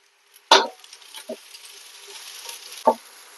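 Long-sliced onions fry in a pan for chicken curry: a faint, steady sizzle broken by three sharp clatters from stirring, the first one loudest.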